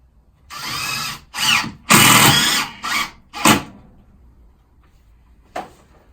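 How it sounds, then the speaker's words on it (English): A power drill drives long screws into thermalite blocks in several short whirring bursts of varying length, loud and close, followed by a brief final burst after a pause. "it's got thermalite blocks on here, so I can actually put long screws in"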